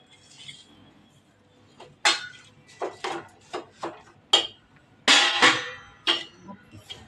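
A spoon clinks and scrapes against a pan while a sesame and jaggery mixture is stirred over low heat, giving irregular metallic taps that grow louder toward the end.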